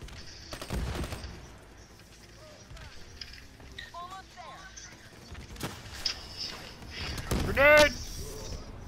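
Automatic gunfire bursts in a Call of Duty: Black Ops III match, with sporadic shots and loud impacts scattered across the clip beneath excited voices talking.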